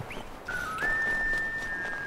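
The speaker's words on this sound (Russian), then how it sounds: "Кто там свистит в дудку индейскую?" A whistle in the video game Assassin's Creed III sounds as a single clear, sustained high tone that steps up once and holds steady for over a second against a quiet snowy background.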